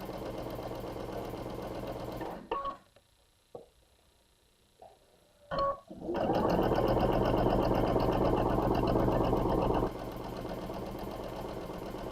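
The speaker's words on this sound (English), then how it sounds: "we sew these two pieces together" A sewing machine stitching quilt pieces together runs in a steady mechanical whir, pauses for a few seconds with small clicks and handling sounds, then starts again and keeps running at a close, even rhythm.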